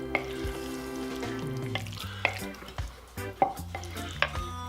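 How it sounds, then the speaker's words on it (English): A sloppy joe mixture with baked beans is stirred in a pan, making quiet scraping and soft sizzling with a few utensil clinks under a low background hum. "Give 1 last little stir. So I'll be stirring periodically as we go."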